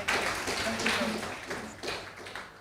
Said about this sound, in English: a big round of applause for session 2